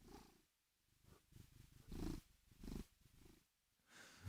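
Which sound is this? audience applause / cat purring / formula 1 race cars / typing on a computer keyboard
cat purring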